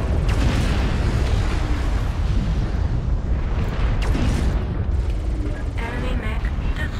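A continuous roaring explosion from a destroyed mech in Mechwarrior Online, loud and rumbling with several crackling bursts on top, and a voice speaking over it.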